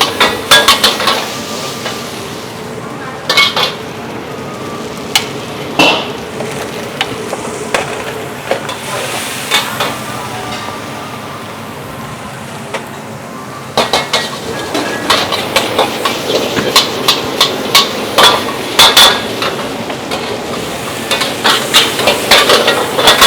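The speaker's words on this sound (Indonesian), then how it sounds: "masuk bawangnya langsung" Onions are stir-fried in a pan at a busy Indonesian food stall, with steady loud sizzling and repeated sharp scrapes and clanks of a metal spatula against the wok, with no talk heard.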